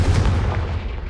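Confringo fire spell blast in Hogwarts Legacy, a single loud booming burst with a rumbling low end that fills the short moment and fades slightly at the close.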